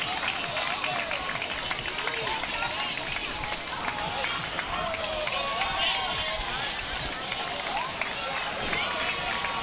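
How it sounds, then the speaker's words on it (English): Spectators at a Fourth of July parade in Edina clap along the route, a continuous crowd applause under close-up talk and a wash of voices and outdoor bustle. "Winning applause,"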